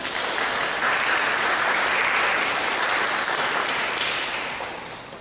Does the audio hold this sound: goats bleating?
no